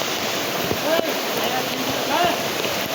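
Rushing floodwater pours through a banana field after heavy rain, a steady broadband roar with splashing, close and loud throughout, while people talk over it.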